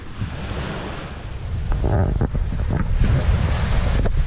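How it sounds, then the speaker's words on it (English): Waves wash onto a small beach in a private alcove, a steady rushing surf roar with rising swells and gusty wind noise on the microphone, close and continuous with no talking. "Nice little beach."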